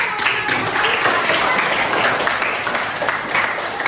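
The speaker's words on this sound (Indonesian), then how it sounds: "Berikan aplaus." Classroom applause for students who scored top marks, a dense burst of many hands clapping steadily and close for several seconds, with a few voices mixed in.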